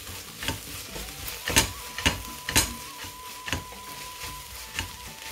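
Onions and sliced garlic sizzling in a pan for Kerala beef peralan, with spatula stirs scraping through the soft frying crackle in several sharp bursts.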